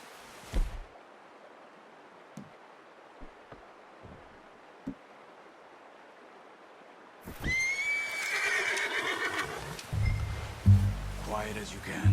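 In Red Dead Redemption 2, a horse gives a loud whinnying neigh after a long stretch of quiet outdoor ambience with scattered soft thuds. A few hoof clops and low snorts follow, and in-game voices speak around it.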